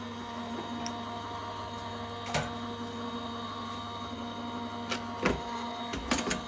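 A Gemini die-cutting machine rolls a die through in a quiet room, giving a steady motor hum with a few faint clicks and one louder clunk near the end.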